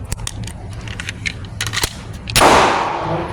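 Shots from a Glock 43X pistol fitted with a 15-round magazine, heard as a few sharp cracks spaced apart and then a louder blast with a noisy, ringing tail.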